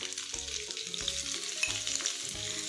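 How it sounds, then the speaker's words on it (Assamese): A pan frying on a low flame gives off a soft, continuous sizzle, with faint rhythmic scraping or stirring bumps underneath, close by and fairly quiet, with no voices. "এতিয়া মই এনেদৰে ভাজি ল'ম অলপ দেৰি 1 মিনিটৰ কাৰণে"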